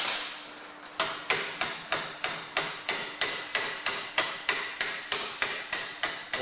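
Sharp metallic hammer blows knock a clamp off a John Deere 2030 tie rod end, about sixteen evenly spaced strikes in a steady brisk rhythm, close and clear.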